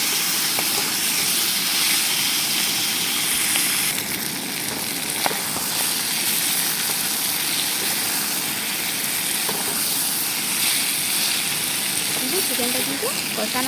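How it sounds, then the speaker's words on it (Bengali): Chicken sizzles in oil in a pan as it is sautéed until the oil separates, giving a continuous close frying hiss with a few faint clicks, while a person speaks over it. "চিকেনটা কিন্তু কষানো হয়ে গেছে, যখন তেল ছেড়ে দিয়েছে।"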